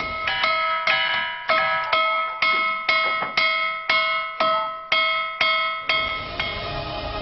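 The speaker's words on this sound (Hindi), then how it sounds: "पत्थरों की सुरीली आवाज मानो मंदिर में घंटियां बज रही हैं।" Musical ringing stones struck one after another, giving about a dozen clear, bell-like metallic tones in a steady rhythm, each ringing out and decaying like temple bells, close and fairly loud with no talk.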